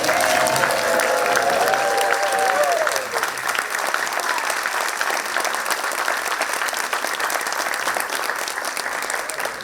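An audience applauds Teachers of the Year as they rise to be recognized at a school event, a dense burst of clapping that is loudest at first and then settles into steady, slightly softer applause.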